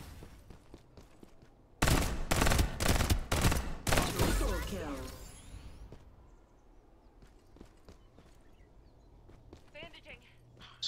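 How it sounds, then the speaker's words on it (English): A sudden burst of rapid video game gunfire, loud and dense for about four seconds, then it trails off into quieter game noise with scattered clicks. "Bro, I'm getting shot with like a frozen gun."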